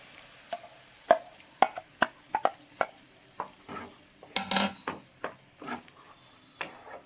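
Tomato gravy goes into a sizzling pan of paneer butter masala and is stirred in, with a steady low sizzle under a series of sharp spoon scrapes and clinks against the pan.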